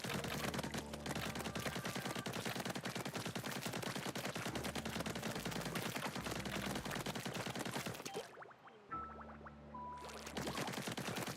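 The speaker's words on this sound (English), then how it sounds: "The rate of fire on my gun is awesome now." An upgraded weapon in Splatoon 3 fires in a rapid, continuous rattle, dense and loud almost throughout, broken by one brief pause before the fast shots resume, with steady game music beneath.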